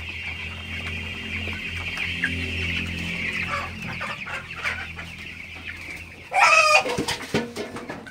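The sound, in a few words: chickens clucking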